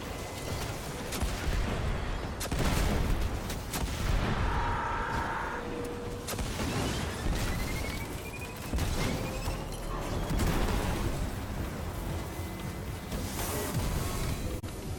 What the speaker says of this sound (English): Scorch cannon, please.